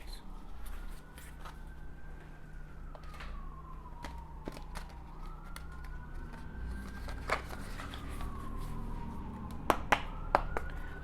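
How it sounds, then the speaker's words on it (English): Tarot cards are shuffled by hand, with soft riffles and sharp snaps and taps scattered over a quiet, close background. A faint tonal hum sits underneath, and there is no talking. "So let me shuffle these a bit and then we can get more cards."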